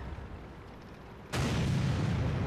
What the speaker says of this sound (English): Artillery finishes him off with a derp shot